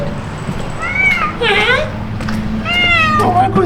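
A cat meows repeatedly, with two clear drawn-out meows and a shorter cry near the end, close and fairly loud over a steady low background hum.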